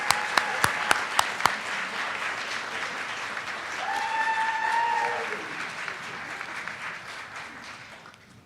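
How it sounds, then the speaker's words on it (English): An audience applauds an award recipient at a mayor's community service awards ceremony, with sustained clapping for several seconds and a faint tone sweeping through mid-way. "Let's give Ms. Andrea Weiner a big round of applause"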